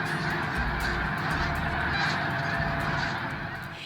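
Snow goose calls play from an electronic caller, a dense, continuous chorus of honking and yelping, like a large flock, loud and steady throughout.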